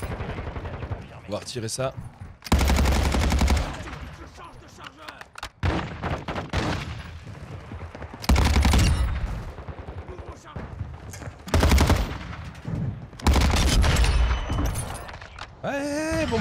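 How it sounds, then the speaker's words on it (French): Crown Squall level 3 weapon firing in a video game: several loud bursts of rapid automatic gunfire separated by pauses, someone speaking between and over the shots. "L'arme a un beau petit bruit, bon petit truc. Crown Squall niveau 3."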